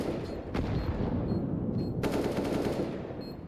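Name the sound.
automatic gunfire spraying in a video game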